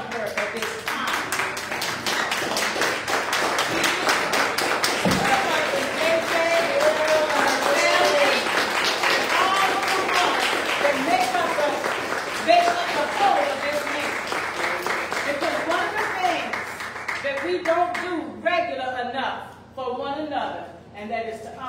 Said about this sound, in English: Let us clap our hands and honor her at this time